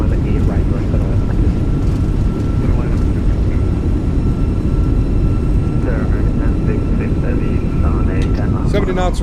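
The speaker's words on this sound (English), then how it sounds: "Reversers are out. Decelerating." A Volaris Airbus A320 rolls out after landing with thrust reversers deployed, giving a loud continuous engine roar and rumble heard from the cockpit, with some voices present.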